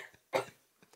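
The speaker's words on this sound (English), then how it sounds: "you've made me laugh so hard I cough" A single short cough bursts out, close and alone, with faint breathy sounds before and after.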